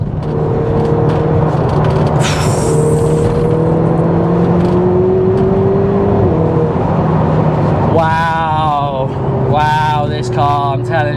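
Ferrari 488 supercar accelerating hard in a 0 to 60 run, heard from inside as a loud rising engine roar climbing through gear changes, with excited voices near the end.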